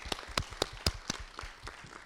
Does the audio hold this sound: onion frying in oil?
no